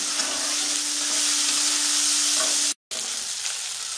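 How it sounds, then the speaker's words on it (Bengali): Onions frying in a pan for a Bengali-style mutton curry, a steady close sizzle and crackle with a faint hum beneath, cutting out briefly near the end before resuming. "পেঁয়াজটা আমি একটু লাল লাল করে ভাজবো।"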